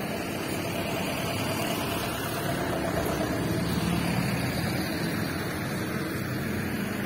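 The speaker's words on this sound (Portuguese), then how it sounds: "desculpa o barulho aí, pessoal. Tem ônibus passando." Buses rumbling past inside a bus terminal, a steady, loud engine drone and road roar that holds for the full span without breaks, heard with no talk over it.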